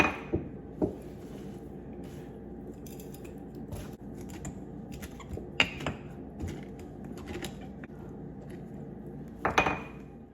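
OSC sauerkraut cabbage being pushed down into a jar, heard as scattered clinks and taps of glass and utensil over a quiet background, with a few sharper knocks near the start and end.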